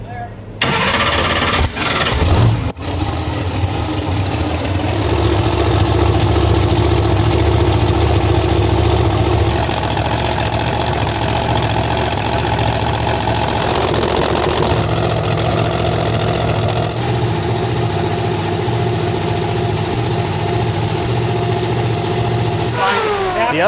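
A monster truck engine cranks briefly, catches and roars to life, then settles into a loud, rough, steady idle that fills the rest of the clip, with a few faint voices under it.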